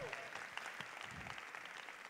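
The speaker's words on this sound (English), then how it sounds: "Let's give them a round of applause." Faint, steady clapping from an audience at a school district's Juneteenth celebration, honoring a students' showcase, with a voice speaking over the scattered applause.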